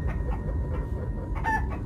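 Giant chickens in the Minecraft: Story Mode video game cluck in a steady, close game soundscape, with a couple of sharper clucks near the end and no talking.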